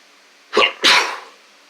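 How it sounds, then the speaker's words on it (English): Two sharp, close sneezes in quick succession, the second louder and more drawn out, with quiet surroundings. "He gets scared when I sneeze."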